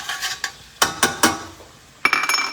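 A utensil scrapes and clinks in a pan while stirring shallots in olive oil, butter and filet steak drippings, a few sharp metallic taps and scrapes spaced irregularly, close and with no talking.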